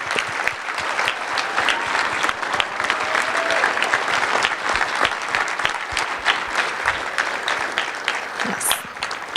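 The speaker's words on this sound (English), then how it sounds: "If we can give everyone a round of applause who's standing up" Sustained applause from a dinner crowd at a fundraising event, many hands clapping in a dense, even stream with individual claps popping out, a brief high squeak near the end.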